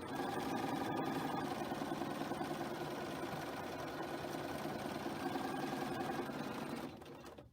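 A sewing machine stitching quilt pieces for a star block, running in a steady close whirring drone for several seconds before slowing down near the end.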